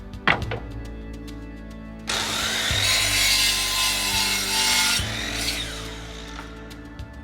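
A power saw cuts through a hardwood board for swarm trap boxes in one loud, sustained cut of about three seconds, framed by sharp wooden knocks and clunks as the board is handled.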